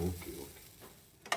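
Ingredients sautéing in a pan for a cashew nut curry, a soft sizzle with light stirring scrapes and a brief louder scrape at the end, heard alone.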